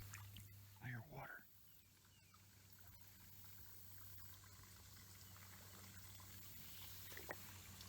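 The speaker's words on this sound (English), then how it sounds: "I hear water." Water trickles faintly and steadily near a kayak outdoors beside a bridge, a quiet, continuous wash with a short voice-like sound near the start.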